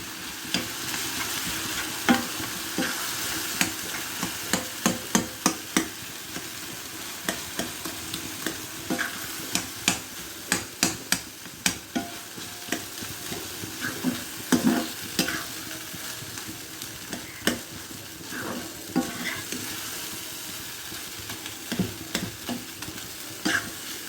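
Soaked flattened rice (chira) mixed with banana by hand or spoon, producing close, soft wet squelches and repeated stirring scrapes in a steady rhythm against a faint background hiss, no speech.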